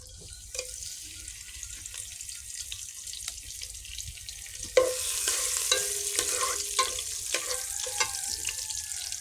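Cardamom, cinnamon sticks and bay leaves stirred in hot oil for biryani, a soft steady sizzle with light scraping that grows louder midway, no talking.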